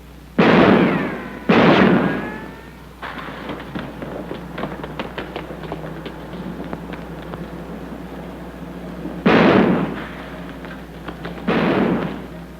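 Four loud gunshots from a 1947 crime comedy film, two near the start and two near the end, sharp and booming, with scattered faint tapping and rustling between them.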